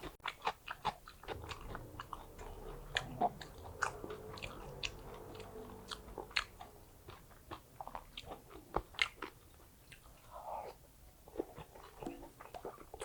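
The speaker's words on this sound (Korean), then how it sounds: "자, 굴무침 한번 먹어보겠습니다." Close-up eating of spicy seasoned oyster salad from a market, with repeated crisp bites and wet chewing sounds in an irregular rhythm, no talking.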